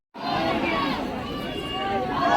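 Crowd chatter at Siddhivinayak temple in Mumbai, where a thick, continuous babble of many voices rises suddenly and stays close and busy throughout.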